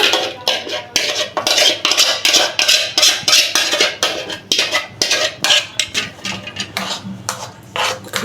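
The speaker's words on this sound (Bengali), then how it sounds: "এখন আমি এটাকে ভালো করে মিশিয়ে নিলাম" A spoon repeatedly stirs and scrapes a homemade face soap mixture in a bowl, close and steady, with rhythmic clinks and rubbing and no voice.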